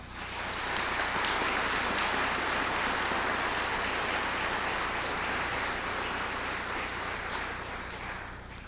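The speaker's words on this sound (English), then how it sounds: "we want to give them a round of applause" Sustained, dense audience applause at a fire rescue recruit graduation ceremony, honoring the pipes, drums and honor guard, rising quickly and holding steady before tapering slightly near the end.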